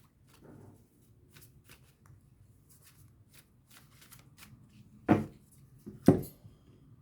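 Tarot cards shuffled and cut for a June 2023 Gemini horoscope reading, a soft riffling rustle near the start followed by two sharp, loud card slaps about a second apart, no talking.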